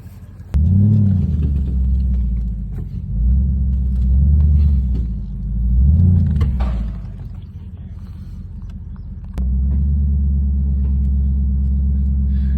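A pickup truck with a steel front bumper pushes a trailer, its engine rumbling low and close, rising in several slow revs and easing off between them, then settling into a steady louder idle-level drone.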